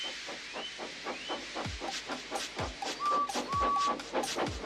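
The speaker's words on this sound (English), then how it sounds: "and Edward puffed away." A steam engine in a Trainz game puffs away in a steady rhythm of hissing chuffs, with a couple of short whistle tones partway through and no talking.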